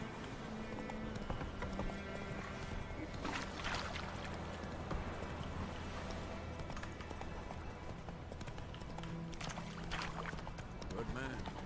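Roach, the horse in The Witcher 3, gallops with quick rhythmic hoofbeats under game music and effects, while someone talks over the action at moderate volume.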